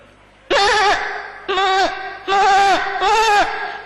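At a festival stage, a man mimics a young goat kid bleating, giving four wavering, nasal bleats in a slow sequence, each loud and close, separated by short pauses.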